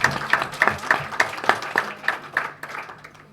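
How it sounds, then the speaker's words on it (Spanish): A small audience at an undergraduate literature colloquium claps for a presenter, giving a short run of fairly sparse, distinct claps at a steady pace that thin out and fade toward the end. "Así que un aplauso para Valeria."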